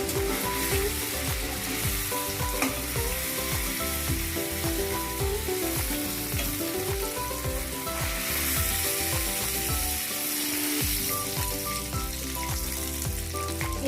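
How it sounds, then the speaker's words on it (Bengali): Paneer cubes fry in hot oil with a dense, continuous sizzle and crackle that holds steady and loud throughout, with occasional stirring and a tonal background layer running underneath. "এইভাবে সব পনিরগুলো ভেজে নিচ্ছি।"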